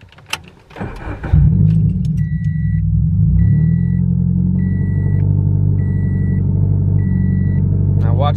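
Scion FR-S/Subaru BRZ engine cranking and starting, then running at a steady close idle rumble with a faint repeating chime over it.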